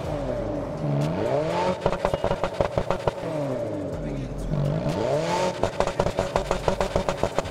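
Car engine in the racing game Test Drive Unlimited, revving up and down in repeated sweeps and then hitting the rev limiter with a rapid stuttering crackle, loud and close.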